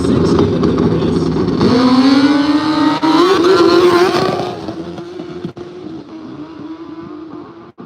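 No-prep drag race cars launching side by side at the War in the Woods X event, a loud rising engine roar that holds strong for about four seconds, then drops back to a lower steady drone.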